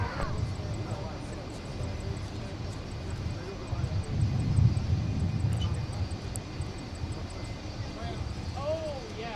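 A fixed-wing airplane taxis at Minneapolis–St Paul airport, its engine making a low, steady drone that swells slightly midway, with radio chatter and voices over it.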